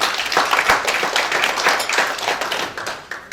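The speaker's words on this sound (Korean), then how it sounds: "여러분 큰 박수로 맞아주십시오" Audience applause welcoming a swimming association secretary to the stage at a Busan unification advisory council gathering, a dense, lively burst of many hands clapping in quick irregular rhythm that is fairly loud and near, tapering slightly at the end.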